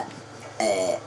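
A child lets out one long, loud, drawn-out burp that starts abruptly after a brief moment of quieter room sound.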